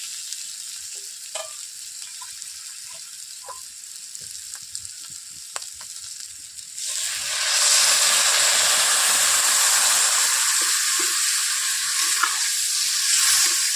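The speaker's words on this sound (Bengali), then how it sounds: "এরপর আমি অল্প করে জল দিয়ে দিচ্ছি" A little water goes into a hot pan of village-style snail curry; faint crackling gives way to a sudden, loud, steady hiss and sizzle that fills the second half, with no voices.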